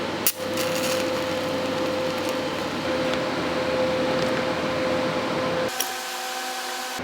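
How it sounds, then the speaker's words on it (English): Welding a 1/4 inch steel rod on a welding table for a motorcycle rack lock mechanism produces a steady, close crackling hiss with a faint tone that lasts about five and a half seconds, then abruptly stops. "I'm gonna go ahead and weld that in."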